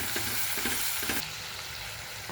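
Chopped onion dropped into a hot pan with garlic and chilli, a bright continuous sizzle with a few stirring scrapes early on, close and fairly loud.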